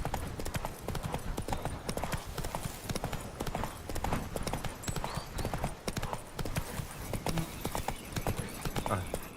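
A horse gallops with steady, rapid clip-clop hoofbeats in the video game The Witcher 3, loud and continuous throughout, with faint game ambience behind.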